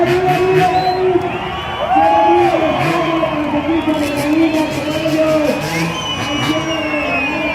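A street crowd at a Red Bull motorcycle stunt show in a historic town centre shouts, whoops and cheers continuously, loud and close. An announcer talks over the noise and a rising whistle or siren tone sweeps through.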